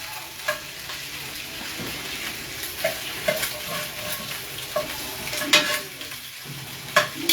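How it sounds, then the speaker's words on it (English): Pork fat searing in a pan for New Orleans red beans, a steady close sizzle and crackle of frying with occasional stirring scrapes, no talk. "I'm just putting a little sear on these, that little fat, getting it a little fried"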